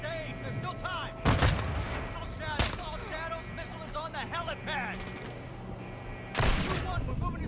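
Sniper rifle gunfire in the Modern Warfare II video game campaign: three sharp, loud shots, the last near the end, ring out over a busy bed of game sound effects and background chatter.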